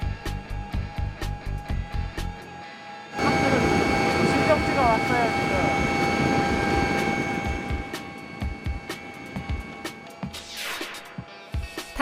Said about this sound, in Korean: 빠르게 닥터 헬기로 환자를 옮깁니다